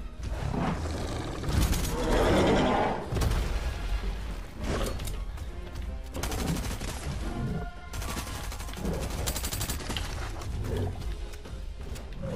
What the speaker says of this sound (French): J'utilise toutes mes balles sur lui